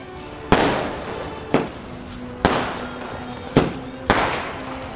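Diwali fireworks and firecrackers burst in five sharp, loud bangs spaced about a second apart, each followed by a crackling, fizzing decay over a constant background hum.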